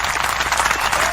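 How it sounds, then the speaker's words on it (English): Audience applause at a young talents show, a dense steady wash of many hands clapping, loud and continuous throughout with no talk over it. "A round of applause."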